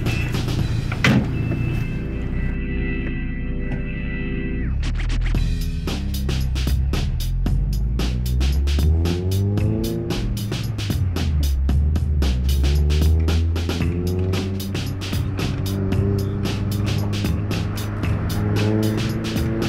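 A tuned first-generation VW Golf engine burbles steadily and loudly up close, its low rumble shifting pitch as revs rise and fall, with sharp crackling pops scattered throughout and no talking over it.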